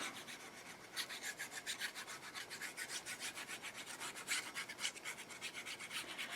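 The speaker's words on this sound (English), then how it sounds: "let's go ahead and get that nice burnish down so that glue gets twirled around there" Glued paper on a handmade display box is burnished by hand, producing continuous close dry rubbing strokes in a quick back-and-forth rhythm without speech.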